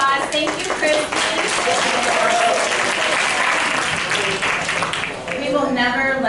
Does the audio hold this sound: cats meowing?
no